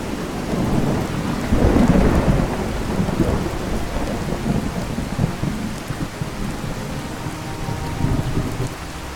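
A thunderstorm in Fallout 4 with the True Storms mod: steady heavy rain hisses throughout while deep, rolling thunder swells loudly near the start and rumbles on beneath the downpour.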